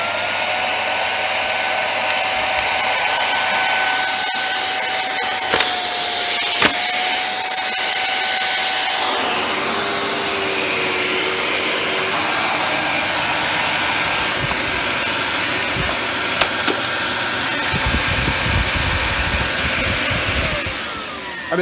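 A refurbished Panasonic MC-UL710 upright vacuum cleaner runs loud and close with a steady motor roar and whine, its pitch shifting partway through as the suction changes, and no talk.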